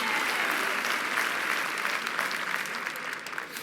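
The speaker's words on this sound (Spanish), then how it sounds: "¿Cuánto le da un aplauso a Jesucristo, Rey de Reyes, Señor de los Señores?" A church congregation applauds during a sermon, a dense, steady wash of many hands clapping together that eases off slightly toward the end, with no voices standing out.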